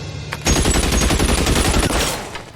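Rapid automatic gunfire from soldiers in cover in the video game L.A. Noire, a loud, dense burst of shots that runs for about two seconds after a brief quiet start, then fades slightly.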